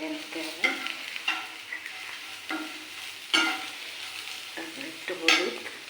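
Food frying in a pan with salt added is stirred, a soft sizzle broken by several distinct scraping strokes of a spatula at irregular intervals, close by and with no voices.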